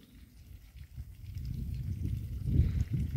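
Mute swans feeding in water among lotus and hibiscus, a close, irregular run of soft dabbling, slurping and splashing sounds that grows busier and louder toward the end.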